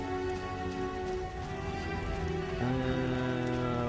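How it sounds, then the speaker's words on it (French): Steady rain patters on surfaces in The Witcher video game, an even wash of drops heard close over layered tonal game ambience with no talk. "Il y en a marre de la pluie."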